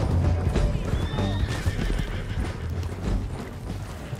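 Horse in Red Dead Redemption 2 whinnying with a rising, wavering neigh while steady clip-clop hoofbeats continue throughout, close and fairly loud over a low rumbling background.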